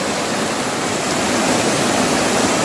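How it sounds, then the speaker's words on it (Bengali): Heavy water rushing down from a mountain ledge into a deep gorge on a steep, slippery hillside, a dense steady roar that stays loud and unbroken throughout, with no voices over it. "এখান থেকে জলের ধারা নিচে নেমে গেছে একেবারে গভীর খাদ"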